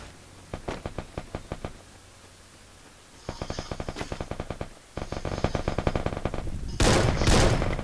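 Automatic gunfire from the Free Fire video game crackles in rapid bursts of evenly spaced shots, growing denser and louder toward a final blast, with no voices.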